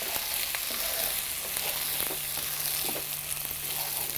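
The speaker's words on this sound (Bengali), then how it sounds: "এবার আমরা এখানে রাইসটা দিয়ে দিব।" Half-boiled rice and chicken fry in a hot pan with a steady, loud sizzle, broken by occasional scraping stirs.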